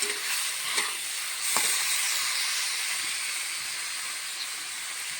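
Potatoes, lentils and rice fry together in a pan, giving a steady, fairly loud broadband hiss with a few soft scraping stirs early on, continuous and close with no talking.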